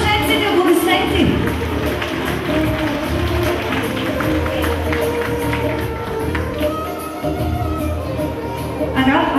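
Guests at a wedding ceremony applaud the newlyweds with a dense, sustained patter of clapping mixed with crowd noise and voices.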